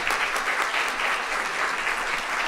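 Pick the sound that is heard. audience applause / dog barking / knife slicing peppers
audience applause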